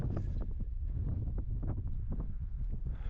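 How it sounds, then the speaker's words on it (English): Constant wind buffeting and rumbling across the microphone throughout, loud and low, with no one speaking, outdoors on a windy day while working livestock with a rope. "It's windy today."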